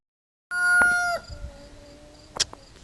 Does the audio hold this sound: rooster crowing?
yes